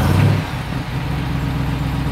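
A big Jeep V8 with dual exhaust rumbles at idle just after starting, a steady, loud low-pitched drone with a brief swell near the start.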